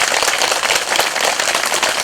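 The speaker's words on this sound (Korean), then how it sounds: "큰 박수 한번 좀 쳐주세요" A temple audience bursts into loud, dense applause, with many hands clapping at once in a continuous, even roar.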